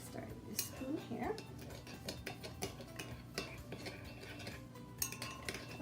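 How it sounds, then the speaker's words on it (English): A metal spoon stirs brown sugar in a dish while baking Bajan coconut turnovers, giving a few close scraping clinks and taps against the bowl, steady and fairly faint with no talking. "I'm going to give that a little stir"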